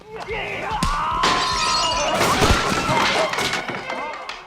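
Glass fixtures shatter during a shopping mall fight scene: repeated loud crashes and smashing with heavy thuds, dense and continuous, while voices shout over the chaos.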